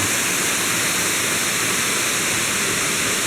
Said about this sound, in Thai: น้ำตกก็อหลวงก็อหลวง อำเภอลีจังหวัดลำพูน